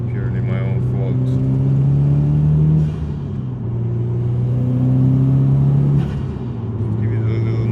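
A Subaru STI engine revs and pulls hard from inside the car, a loud low droning roar that climbs, drops off briefly around the gear change, then climbs again.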